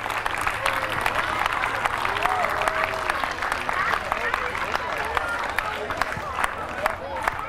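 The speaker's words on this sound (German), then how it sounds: "Und die, die jetzt am längsten müssen warten, kriegen nochmal einen kräftigen Applaus." Crowd at a youth football camp applauds Borussia Dortmund with sustained, lively clapping mixed with cheers, whistles and chattering voices, loud and unbroken from start to end.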